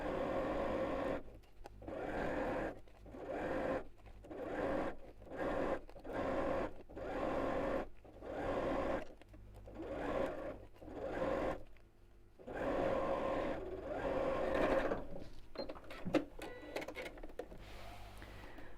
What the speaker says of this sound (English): then we'll sew all the way around.